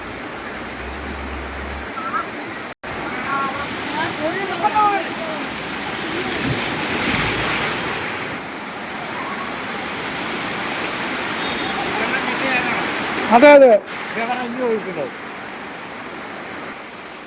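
Floodwater from heavy rain, after a dam upstream at Nenmara was opened, rushes forcefully across a road in a loud, continuous roar, with a person speaking briefly and a few short bumps and knocks.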